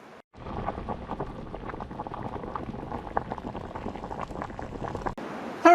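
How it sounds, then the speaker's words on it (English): Water at a rolling boil in a pot on a stove, ready for cooking spiny lobster, a steady close bubbling and churning rush that runs continuously with no voices. "throw it on the stove and get it boiling"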